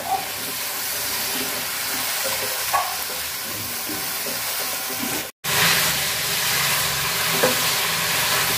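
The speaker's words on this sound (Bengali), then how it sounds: "ফুলকপিগুলো আমি সুন্দর করে কষাই নিচ্ছি, ভাজা ভাজা করে নিচ্ছি একদম।" Cauliflower pieces fry in hot spiced oil in a pan, a steady loud sizzle with stirring scrapes, briefly cut off midway before the sizzling resumes.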